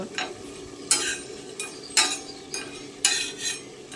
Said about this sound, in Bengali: এগুলো এবার আমি ভালো করে ভেজে নেব